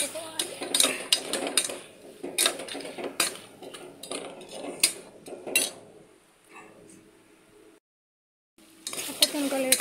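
A spoon stirs soaked dried fish pieces in a cooking pan, giving loud clattering scrapes in quick bursts that thin out into softer sizzling, then a brief silence before the clanking resumes.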